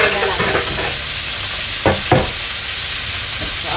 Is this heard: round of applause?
no